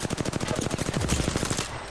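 Rapid automatic gunfire in a video game, a fast, even burst of loud shots for nearly two seconds before trailing off.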